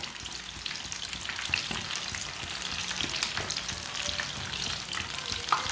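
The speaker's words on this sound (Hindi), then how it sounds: "ऐसे उल्टाते हुए इसे ब्राउन कर लेना" Chicken leg pieces frying and being turned to brown, a continuous close crackle and spatter of hot oil with scattered pops and scraping as they are flipped.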